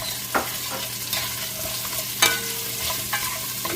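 Onion is sautéed in a pan for a sinigang-style miso pompano dish. A continuous close sizzle is broken by occasional scraping stirs.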